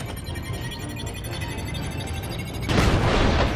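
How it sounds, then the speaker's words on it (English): An explosion in the Epic Mickey 2 video game: a steady rumbling blast bed with crackling static, which swells into a louder, broader burst of noise near the end. "The explosion shut off the thinner..."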